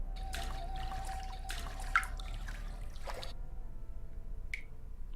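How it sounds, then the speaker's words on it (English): Water trickles and drips in an Egyptian-themed video game level, scattered splashy drops and small plinks over a low steady background, fairly quiet with short gaps between drips. "water drops all along the water, mostly in this corner and just outside of the tunnel."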